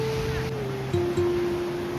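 Stormy sea surf along the beach and seafront promenade at Malaga, a steady broadband wash with a low tonal hum running through it and no speech.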